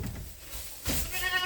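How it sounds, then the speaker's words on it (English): A billy goat on a farm bleats in a close, wavering cry, preceded by a brief rustling breath-like noise, with no talk. "Billy the Billy Goat"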